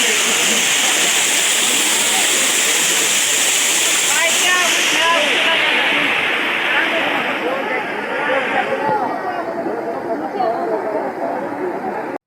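Kapildhara waterfall roars as a steady, loud wash of rushing water throughout, with a voice talking over it.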